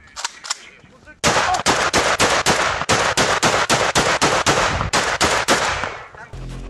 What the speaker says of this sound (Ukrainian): На ньому окупанти стріляють у беззбройних українських полонених.